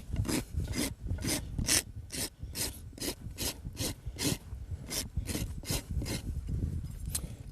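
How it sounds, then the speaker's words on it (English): A barefoot farrier rasps a horse's hoof one-handed, producing close, loud, regular rasping strokes, about two per second, repeating steadily throughout. "So I'm actually going to hold with one hand, rasp with one hand"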